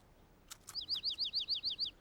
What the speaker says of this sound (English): Caillou was startled and excited to hear the bird chirp.